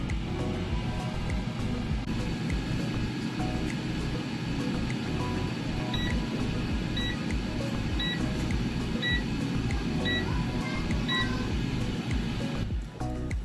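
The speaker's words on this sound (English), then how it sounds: "the timer just went off" An Asda George digital air fryer timer beeping: a series of short, evenly spaced beeps, about one per second, over a loud, constant fan whir and hum.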